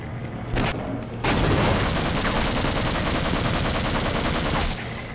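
Gunfire in the video game Half-Life, a dense loud barrage of rapid automatic shots blending into a continuous roar for several seconds, with no talking over it.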